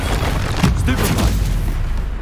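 A Stupefy spell in Hogwarts Legacy fires with a booming, explosive blast amid a dense wash of game combat noise, loud and close.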